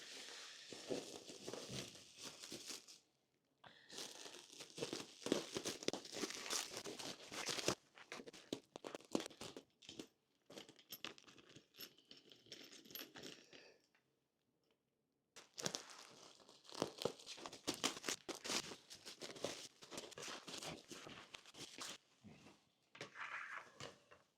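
Packaging being torn open and crumpled while unwrapping a stainless steel motorcycle rack and luggage bags for a Honda CRF300L, with close, repeated rustling, crinkling and tearing in bursts separated by brief pauses.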